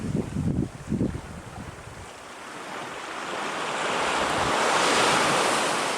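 Surf breaks on Hazards Beach at Freycinet, a broad wash of waves swelling louder toward the end, mixed with buffeting wind on the microphone.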